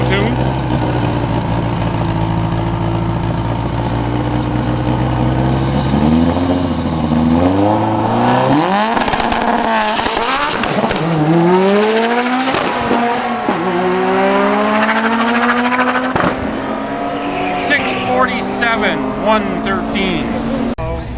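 A race car on street tires launches at a drag strip, its engine revving hard and climbing in pitch through several gear changes, loud and close, with people talking around it.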